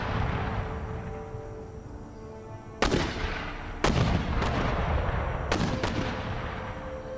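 Mortar artillery fire in the Empire: Total War battle game, three heavy booming blasts a second or more apart rising over a dense low rumbling battlefield din, with no voices heard.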